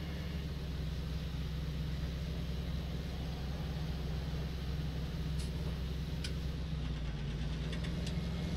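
Case tractor engine in Farming Simulator 19, a steady low droning rumble held at an even level throughout, with a few faint clicks near the end and no talking.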